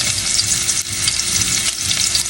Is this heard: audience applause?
no